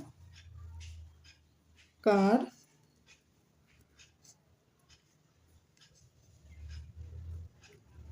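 A pen writes out a math problem on paper, with faint, scattered scratches of strokes across a quiet background and one brief burst of a voice partway through.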